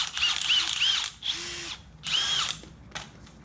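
A Milwaukee power tool, heard in a garage while work is done on a second-generation truck, whines in short loud bursts that rise and fall in pitch, close by, with brief pauses between the revs.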